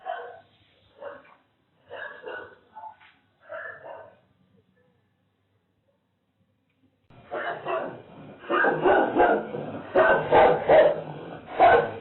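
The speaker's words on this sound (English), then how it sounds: "A brave dog in Peru defused this" A dog barks in a Peru news report on a device thrown into a yard, a few short bursts of barking early on, then a pause before louder, denser sound with barking and voices continues to the end.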